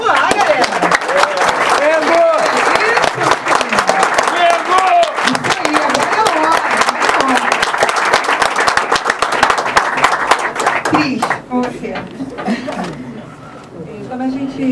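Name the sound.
audience applause for Flamengo presidential candidates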